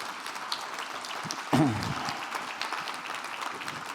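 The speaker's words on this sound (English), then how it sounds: "I really would like them to get a round of applause too" An audience at a Hall of Fame induction ceremony breaks into a dense burst of applause that swells and then carries on steadily, with a voice briefly heard at the start.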